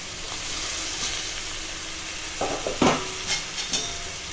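Fried elephant foot yam added to a pan and stirred, a constant hiss of cooking with a few clattering, scraping stir sounds clustered near the end.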